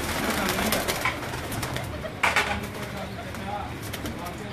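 Goge breed pigeons kept by a pigeon fancier in Gujranwala, with scattered soft coos and wing flutters mixed into steady background noise and nearby talk.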